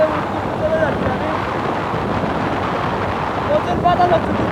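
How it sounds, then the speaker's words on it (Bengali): Strong wind buffets the microphone on a boat crossing near Khulna's Rupsha Bridge, making a loud, steady roar that fills the whole clip with only slight gusty swells. "প্রচুর বাতাস হচ্ছে, বুঝতে পারছি।"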